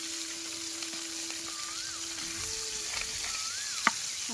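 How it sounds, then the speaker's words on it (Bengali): Pieces of shing fish frying in oil until reddish, a steady soft sizzle close by with a single sharp clink near the end and faint background tones. "একটু মাছগুলো লাল লাল করে ভেজে নিব আমরা"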